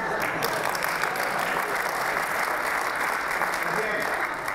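Steady, dense applause from a magic show audience fills the whole stretch at an even level, with no pauses and no single voice standing out from the clapping.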